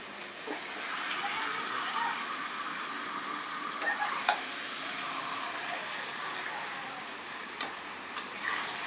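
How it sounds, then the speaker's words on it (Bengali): Chicken sautéing in hot oil with spices for a homemade biryani, a steady, fairly soft sizzle that holds throughout, with a few faint clinks and scrapes of stirring breaking through. "চিকেনটা দিয়ে দেওয়া হয়ে গিয়েছে বা চিকেনটাকে ভালো করে কষতে হবে"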